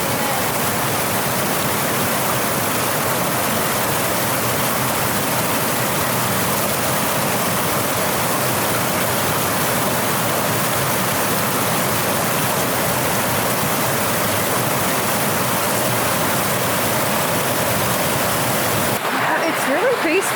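River water in the Alps rushing steadily, a loud continuous broadband roar of flowing water close by, unbroken for the whole span before cutting off at the end.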